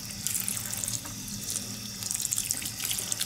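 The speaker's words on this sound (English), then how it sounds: "So let me just water this one a little bit more, and you'll very soon see the water coming out at the bottom of the pot." Water pouring steadily from a watering can into potted cacti and succulents, a continuous soft splashing trickle, fairly quiet and close, with no talking.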